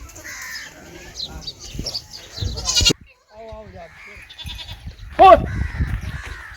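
A goat bleats loudly and close by near the end, amid men arguing heavily in the foreground, with bird calls and outdoor background noise.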